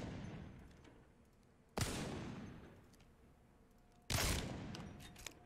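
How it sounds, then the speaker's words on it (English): Two sharp, heavy shots from the Wingman pistol in Apex Legends, spaced a couple of seconds apart, each cracking loudly and ringing out with a long decaying tail against quiet background. "This is the wingman."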